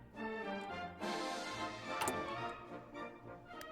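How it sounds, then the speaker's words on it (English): A clock ticks in the strategy game TNO: The Last Days of Europe, a steady mechanical tick-tock over a droning musical background. "Must be listening to the clocks that did that."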